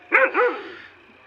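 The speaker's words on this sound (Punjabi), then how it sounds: "ਵੇ ਕੁੱਤੇ ਨਾ ਵੱਤ ਭੂੰਕ" A dog barks twice in quick succession, loud and close, with the second bark slightly softer. No one speaks over it.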